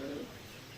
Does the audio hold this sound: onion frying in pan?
no